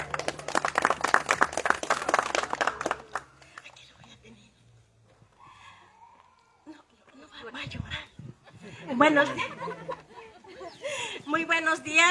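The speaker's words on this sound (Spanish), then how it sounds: "lo recibimos con un fuerte aplauso" An audience applauds at a groundbreaking ceremony for a sanitary drainage network expansion in barrio El Aguaje: about three seconds of dense, lively clapping that ends abruptly, followed by quiet and then people talking.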